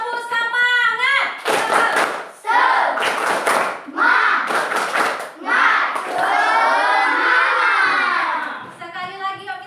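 A classroom of children performs a rhythmic 'tepuk semangat' spirit clap, with bursts of loud group clapping in sets alternating with chanted young voices, ending in a sustained shout.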